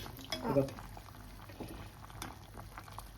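Homemade Tamil fish curry bubbling toward a boil in a pot, a soft continuous simmer with faint bubbling under a voice talking nearby.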